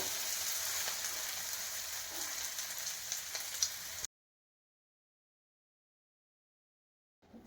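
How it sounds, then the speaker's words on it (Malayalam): Onions fry in a pan for a traditional Kerala curry, giving a steady close hiss and crackle for about four seconds before cutting off to silence. "ഉള്ളിയൊക്കെ ഒന്ന് മൂത്ത് വന്നിട്ടുണ്ട്."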